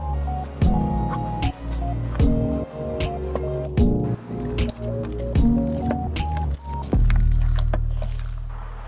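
Bread dough of flour, water and starter mixed by hand, close wet squelching and sticky squishes that come in repeated irregular bursts, loud and messy, with no voices.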